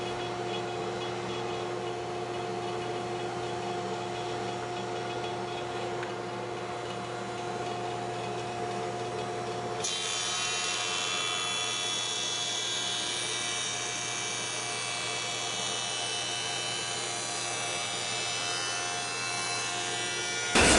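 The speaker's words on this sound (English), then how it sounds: "we're going to true up one face on the jointer here" A jointer truing one face of a wooden board for a jewelry box, a loud continuous motor whine that shifts to a brighter cutting roar midway as the board feeds across the knives.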